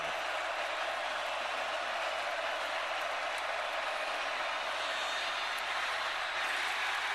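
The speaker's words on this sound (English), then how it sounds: "Loud crowd for a 3rd and 5." College football stadium crowd at Clemson versus NC State, a broad, steady roar of cheering voices, distant and continuous, with no individual voices standing out.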